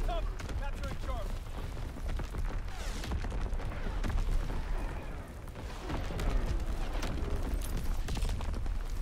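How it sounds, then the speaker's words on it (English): Enemy artillery bombardment in Call of Duty: WWII, a dense, continuous roar of booms and blasts rumbling throughout, with shouted voices mixed into the battle noise. "Incoming enemy artillery."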